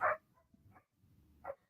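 Dogs barking in the Philippines, a few short, fairly faint barks spaced apart, heard from some distance with no voices.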